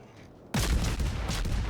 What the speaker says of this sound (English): Oh, the Mogami is actually shooting at something else